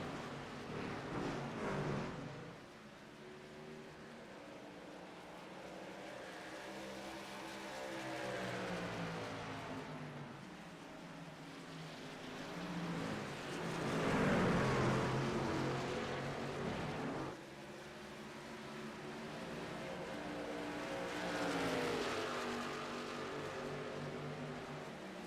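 Race trucks lap New Hampshire Motor Speedway during a long green-flag run, their engines a steady droning roar with passing swells of pitch, heard from a distance throughout.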